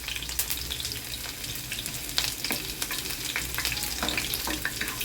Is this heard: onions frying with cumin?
yes